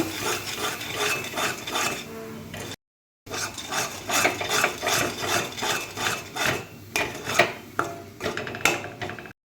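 Flour dough being kneaded by hand for a bhetki fish-bone dish, heard as a close run of repeated rubbing, pressing and slapping strokes with a short break near the start.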